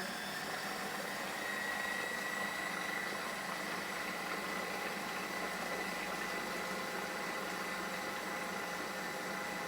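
An electric hand mixer set to its higher of two speeds beats cake batter, a steady, loud, even motor whine with no breaks and no talk.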